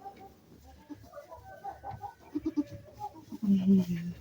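A two-day-old goat kid gives short bleating cries close by among soft farm-animal sounds, and a louder bleat comes near the end.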